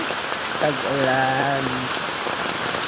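Steady heavy rain pattering on a surface throughout, with a brief tonal crowing-like call rising over it midway.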